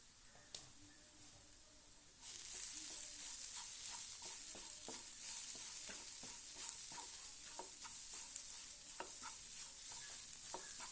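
Ground black pepper, coriander, fennel and cumin stirred in a hot frying pan: a quiet start, then a steady sizzle with close, repeated scraping and tapping strokes, no speech.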